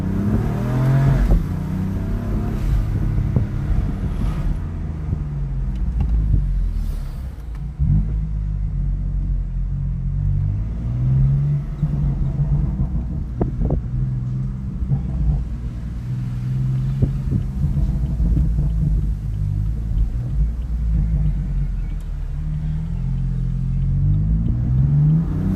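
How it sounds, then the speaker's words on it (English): A deep, rumbling exhaust of a 2017 BMW M4 Competition burbles and drones continuously, heard from inside the cabin with windows partly open and some wind noise, rising and falling with the throttle. "The burbles from the exhaust just sounds so insane."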